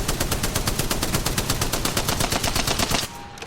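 Spitfire light machine gun fired fully automatic in Apex Legends, a loud, continuous rapid burst of closely spaced shots that stops abruptly near the end.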